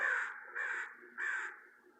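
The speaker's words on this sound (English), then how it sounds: "These are all the blackbirds that are close by us" Three harsh, nasal caws from blackbirds close by, evenly spaced and fairly loud, each call ringing briefly against an otherwise quiet outdoor background.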